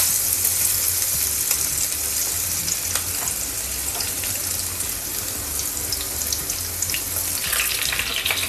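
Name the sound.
crushed garlic frying in oil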